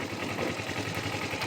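Motorcycle engine in first gear pulling away during a riding-test practice, a steady low engine drone with faint mechanical rattle, moderately quiet and continuous, no talking.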